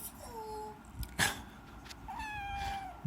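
A domestic cat meows twice, first softly at the start and then in a longer, clearer call near the end, heard close by in a quiet indoor room with a brief thump between the calls.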